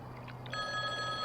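A payphone rings with a steady electronic trill that begins partway through and holds loud and continuous over a low hum, with faint muffled sounds before it.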